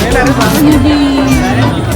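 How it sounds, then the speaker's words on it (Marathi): Dense crowd babble at a packed, busy place where people gathered to eat mande: many overlapping voices form a steady, loud wall of chatter, with a brief tonal whine rising above it. "गर्दी खूप भयानक आणि खूप गर्दी"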